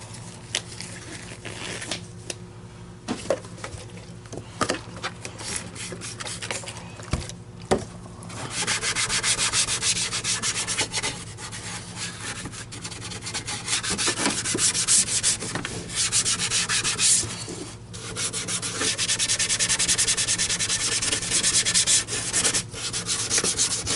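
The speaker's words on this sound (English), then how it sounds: "I'm gonna scrub this thing a little bit more." Paint marks are being scrubbed off an Electrolux Aerus upright vacuum, a close, continuous rubbing and scouring with repeated back-and-forth strokes, sparse at first and then growing denser and louder.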